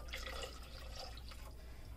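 Water being poured into a slow cooker for chicken and rice soup, a faint steady splashing trickle running continuously with no speech.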